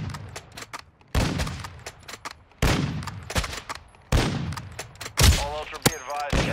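Gunfire in Modern Warfare II DMZ: bursts of rapid automatic shots in several loud volleys separated by brief pauses, close and punchy, with a voice briefly heard near the end.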